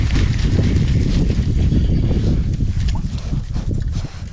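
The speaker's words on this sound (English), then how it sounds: "that wind blowing back in your face here" Cold winter wind blows hard on the bank of a lake, roaring as steady, loud buffeting right against the microphone.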